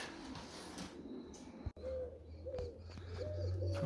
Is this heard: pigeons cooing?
yes